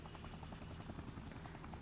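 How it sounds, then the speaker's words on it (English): A military helicopter in the video game Dead Rising drones with a faint, steady rhythmic rotor chop under a low rumble, distant and quiet. "When the Special Forces show up, they brought a helicopter."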